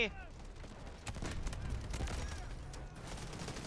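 Sustained gunfire in the video game Delta Force with a CAR-15 rifle, a dense rumbling fusillade of distant shots layered under an excited voice talking over the action.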